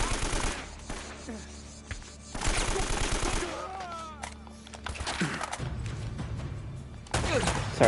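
Sustained, loud automatic gunfire in an Uncharted action game, continuous bursts with brief pauses and a dense layer of impacts, mixed with game sound effects.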